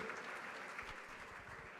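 Applause from a crowd at a charity auction ball: steady clapping with scattered claps standing out, fairly soft and continuous, with no talking over it.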